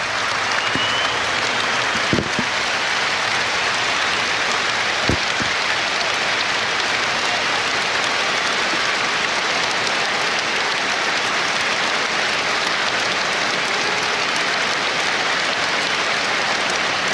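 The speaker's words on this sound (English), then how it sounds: "listen to the applause for Rob Burrow as Twickenham gets to its feet" A stadium crowd at Twickenham stands and applauds for Rob Burrow during the Premiership Rugby final, with a vast, sustained wash of clapping that holds steady from start to finish.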